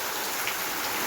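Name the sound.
rain falling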